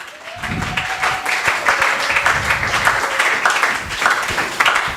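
A church congregation applauding after a preacher's call, with dense sustained clapping filling the space and a murmur of voices mixed in throughout.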